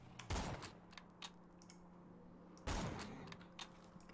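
Two sharp gunshots from Borderlands 2 on PC, fired a couple of seconds apart, with faint clicks and low background hum between them and no talking.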